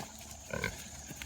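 Pastured pigs in woodland: a brief nearby grunt rises from quiet outdoor ambience, followed by soft rustling.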